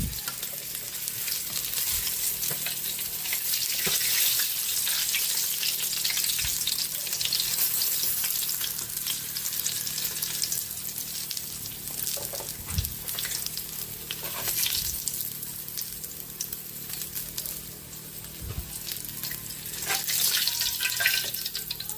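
Chicken frying in hot oil, a dense continuous sizzle and crackle with a few stirring knocks, close and steady throughout, with no talking.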